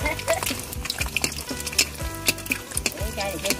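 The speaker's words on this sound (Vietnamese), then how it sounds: "biết chiên trứng luôn" Eggs sizzle in a frying pan while a utensil stirs and scrapes against the metal, giving a constant crackle broken by sharp clinks, with people talking nearby.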